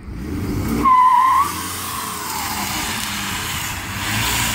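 A 2015 Ford F-150 pickup doing a burnout, with an engine roar and a short, loud tire squeal near the start that then settles into a steady, continuous revving drone close by.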